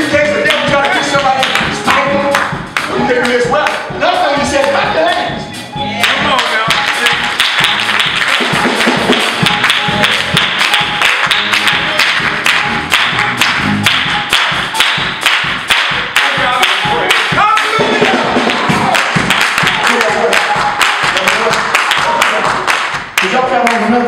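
A church congregation at a Miracle Temple worship service claps in a fast, steady beat along with loud music. The continuous rhythmic claps are mixed with singing or voices.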